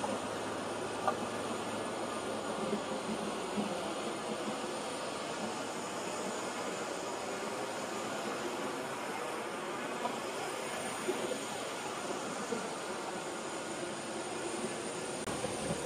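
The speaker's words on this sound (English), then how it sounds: "now it's gonna get a little bit noisy because we have the APU already running" An Airbus A320 auxiliary power unit runs at the tail of the parked airliner during boarding, a steady, loud broadband roar with a whine on top that holds constant throughout with no talk.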